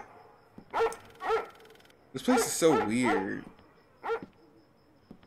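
Dog barking in the Roblox game The Floors Have Teeth: a few sharp, close barks, with a person talking briefly between them and another bark after.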